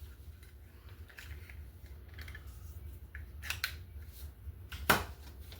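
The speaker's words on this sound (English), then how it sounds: "Punch you out a circle." A circle punch cuts a round piece from an index card, a few soft mechanical clicks and ticks building to one sharp snap near the end, close and otherwise quiet.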